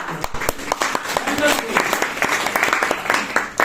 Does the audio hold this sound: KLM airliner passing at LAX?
no